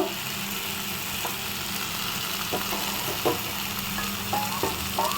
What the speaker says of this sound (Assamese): এতিয়া চাওক এই মছলাখিনি তেল ফুটি গ'ল